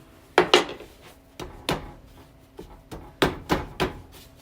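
A knife cuts through a ball of butter pie crust dough on a board, giving about eight sharp, close knocks in uneven bursts with quiet pauses between them.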